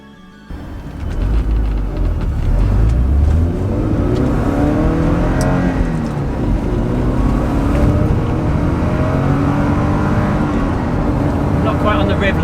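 A 1990 Porsche 944 S2 with a 3-litre straight-four accelerates hard, its loud, close engine note climbing in pitch, easing off briefly, then pulling up again.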